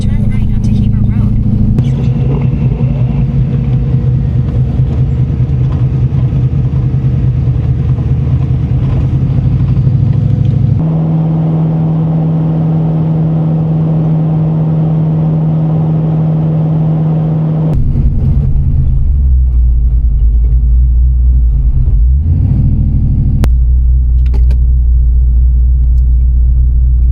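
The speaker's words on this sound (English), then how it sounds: "That was a pretty cool drive going through the high desert" A car cruises along a high-desert highway with a loud, continuous engine and road rumble, the tone shifting as speed changes, while voices occasionally talk over it.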